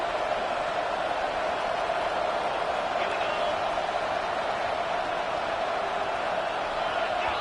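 Football stadium crowd roaring throughout a college football game, a dense steady wall of cheering and noise at even loudness with no pauses.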